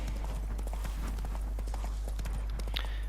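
Roach the horse gallops in The Witcher 3, with a steady, fast run of clip-clopping hoofbeats, close and clear over a low constant game ambience.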